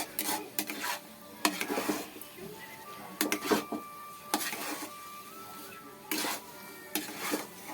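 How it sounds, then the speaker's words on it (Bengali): Semolina being stirred in a pan for a spicy evening snack, with repeated scraping and rubbing strokes of the spoon against the metal at an irregular rhythm, close and moderately loud. "এবার এইটাকে নাড়তে থাকবো"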